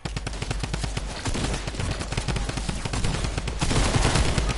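Sniper rifle fire in the video game Fortnite, in a dense run of sharp, loud gunshot cracks in rapid succession, close up and without talk.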